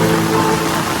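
Heavy monsoon rain pours down on a street in Gariyadhar, a steady, dense wash of rainfall heard close and without pause.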